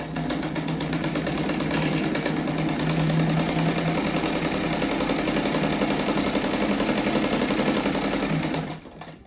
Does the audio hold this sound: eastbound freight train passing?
no